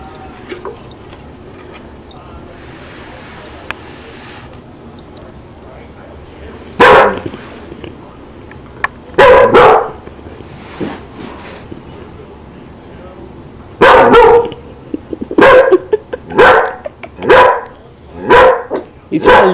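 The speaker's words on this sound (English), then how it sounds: "It's my little puppy." A small Chihuahua barks in sharp, loud bursts, first in single yaps and then in a quicker run of several barks toward the end, over a quiet room background.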